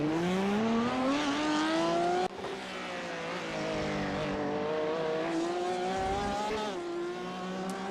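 Race car engine in iRacing at Sebring, idling low then climbing and rising in pitch as the car rolls away after a spin onto the grass, steady loud whine with shifts and dips, close and continuous.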